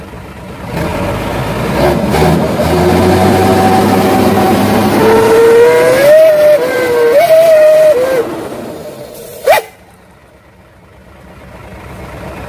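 A Mitsubishi Fuso turbo truck fitted with a custom Srigala exhaust revs loudly and steadily, its rumbling note rising into a howling whistle before cutting off with a sharp pop and settling to a low idle.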